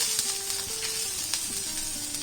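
Curry leaves crackle and sizzle as they hit hot oil in a tawa for a prawn masala fry, a steady loud frying hiss with sharp pops scattered throughout.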